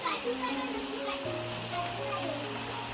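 Steady rain hissing down in a Konkan village during the Ganpati festival season, with a low droning hum underneath and no clear voices.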